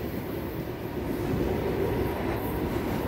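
An electric commuter train from Elektrogorsk pulls away from a Moscow suburban platform, a steady, moderately loud rumble of wheels on rails that swells slightly midway.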